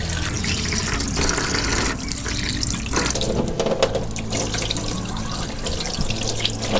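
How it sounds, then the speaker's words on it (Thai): A tap runs steadily into a sink while mackerel is washed under it, the close, loud water rush broken by splashes and shifting gurgles as the fish is handled. "ก็เปิดน้ำทิ้งได้เลยครับ ทีนี้ก็ทำการล้างนะครับภายในนะครับ ของตัวปลานะจ๊ะ"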